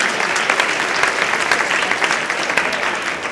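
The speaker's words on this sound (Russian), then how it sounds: "можно аплодировать." A full audience claps steadily throughout, a dense and even wash of applause with no pauses and no voices on top.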